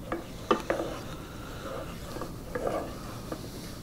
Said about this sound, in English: you stir it up until the onions are golden, like brownish